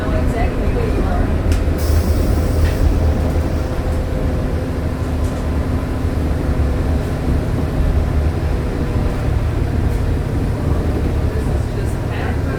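A 2008 New Flyer D40LF city bus engine drones steadily at close range, a constant low rumble with rattling throughout and no breaks.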